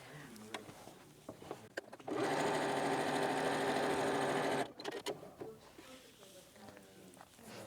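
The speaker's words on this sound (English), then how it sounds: "Sew it together with a 3/8 inch seam allowance on either side." Sewing machine stitching the long side seam of a tote bag at a 3/8 inch seam allowance, running steadily for about two and a half seconds, with handling noises and a voice talking before and after.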